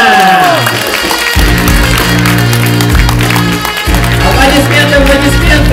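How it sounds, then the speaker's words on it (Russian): Audience applause for a winner at a pageant final is heard as a continuous wash of clapping from a crowd, loud and dense, mixed with strong background music carrying sustained low tones throughout. "Аплодисменты!"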